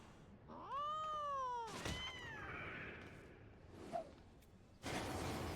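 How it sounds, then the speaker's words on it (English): A cat's drawn-out, rising and falling meow close up, followed by a softer second meow and some thumps and rustling noise. "Well, that's when the cat showed up."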